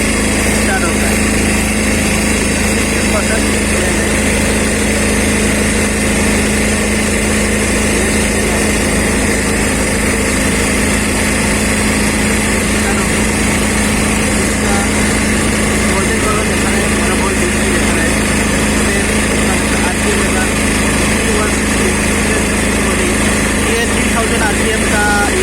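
A Kohler engine cranks via its starter solenoid and settles into steady running, a loud constant drone that fills the whole stretch with no pauses.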